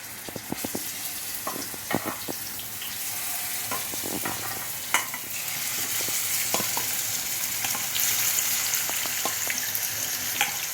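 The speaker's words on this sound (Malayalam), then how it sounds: "ഇതിനകത്ത് ഞാൻ വെളുത്തുള്ളി ഇഞ്ചി അരച്ച പേസ്റ്റും അല്പം ഗരം മസാലയും കുരുമുളക് പൊടികളും ചേർത്ത് അട്ടത് വറുത്തേക്കണേ" Garlic-ginger paste with garam masala and pepper powder sizzles in hot oil in a pan for chicken pasta, a steady close hiss broken by scattered pops and the scrape of stirring, with no talking.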